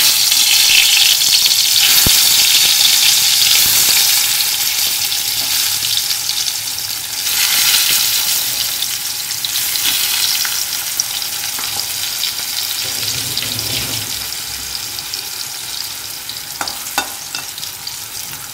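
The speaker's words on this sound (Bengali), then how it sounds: "এবার পটলটা ছেড়ে দিই, তেলটা আমার গরম হয়ে গেছে।" Pointed gourd (potol) pieces dropped into hot oil, giving a loud, steady sizzle and crackle up close, with occasional stirring clinks and swells of frying noise, no voices.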